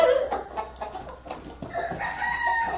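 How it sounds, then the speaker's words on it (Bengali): Two tiger-breed roosters squabble on a farm, with loud, close clucks, squawks and broken crowing calls bursting irregularly throughout. "এই যে মোরগ দুটো দুষ্টামি করতেছে"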